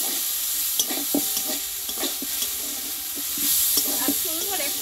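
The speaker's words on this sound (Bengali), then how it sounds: "আমি এটা কিছুক্ষণ ধরে আমি একটু ভেজে নেবো এইভাবে" Softened raw plantain frying with panch phoron in a pan, a steady sizzle with repeated scraping and clicking from stirring, close and moderately loud with no talk.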